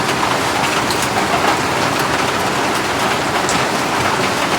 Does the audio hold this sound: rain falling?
yes